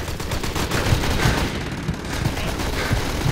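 Rapid gunfire in the shooter Special Forces Team X, a rattling stream of shots with punchy individual bangs recurring at short intervals, loud and close over a busy background.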